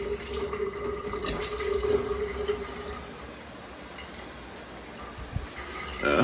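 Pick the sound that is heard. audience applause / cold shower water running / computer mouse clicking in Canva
cold shower water running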